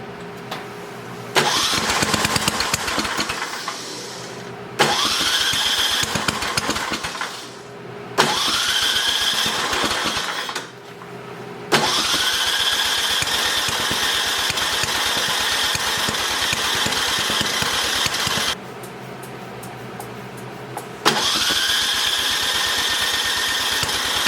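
A free, secondhand snowblower engine is started with a little choke: it sputters to life in several short bursts that die off between attempts, then catches and runs loud and close with a steady roar.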